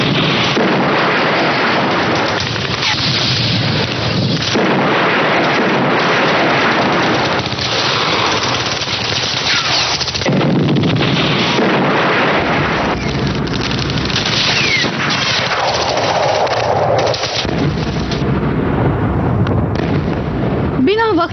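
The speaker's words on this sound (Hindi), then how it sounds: "शत्रु सैनिकों ने इम्लियाकुम और उनके सिपाहियों पर मशीन गन और ऑटोमेटिक हथियारों से हमले करने शुरू किए" Wartime machine gun and automatic weapon fire crackles in dense, rapid bursts alongside booming blasts, loud and continuous throughout, with a voice narrating over the battle noise.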